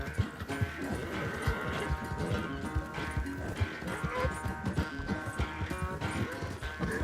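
Galloping horse in Red Dead Redemption 2 during a train chase, steady pounding hoof rhythm close up under continuous game music and ambience, with occasional snorts and animal sounds mixed in.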